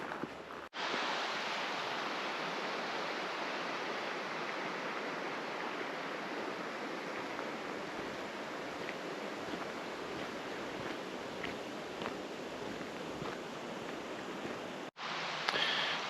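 Steady broadband rush of a waterfall and stream on Rannoch Moor in the Scottish Highlands, continuous and even at moderate distance, no voices.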